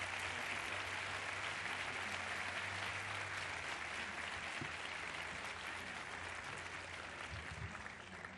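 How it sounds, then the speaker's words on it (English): Audience applause breaks out for author James L. Swanson after his introduction at a book talk, a steady, dense wash of clapping that holds throughout and tapers slightly at the end. "Give him a round of applause."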